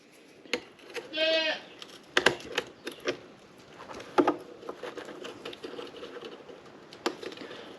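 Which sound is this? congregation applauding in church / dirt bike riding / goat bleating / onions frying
goat bleating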